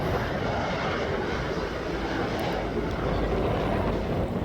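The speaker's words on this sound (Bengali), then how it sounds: "এই যে এখন ফ্লাইট দুবাই বিমানটি সেটি টেক আপ করবে" A steady, loud roar of jet engines, a broad continuous rumble that holds evenly without breaks, like a flydubai airliner powering up on a runway.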